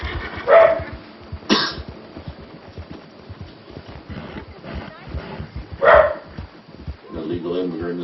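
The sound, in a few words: wild dogs barking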